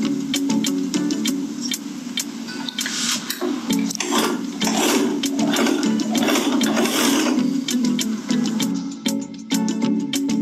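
A sewing machine top-stitches around a fabric strap, its needle chattering in a fast, busy rhythm with brief pauses and speed changes, close and clear with no talk.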